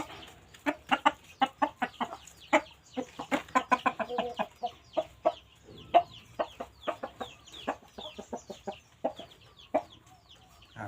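Fighting cocks cluck in a rapid, busy series of short, sharp calls, several birds close by with no talk over them.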